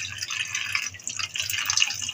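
Tap water running and splashing over raw mutton liver in a bowl, a continuous close trickle and spatter with no talking.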